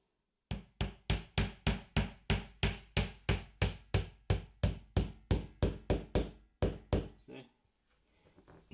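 A nail tapped into a drywall wall close to the baseboard to find a wooden 2x4 stud: about twenty sharp, evenly spaced knocks in a steady rhythm, near and distinct, ending after a short pause with one final strike.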